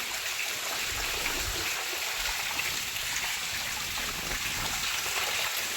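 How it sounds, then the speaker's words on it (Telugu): Steady rushing and splashing of rainwater overflowing a terrace and pouring down stairs, a continuous dense wash of sound with no voices. "డాబా నిండిపోయి మెట్ల మీద నుంచి కింద పడుతున్నాయి"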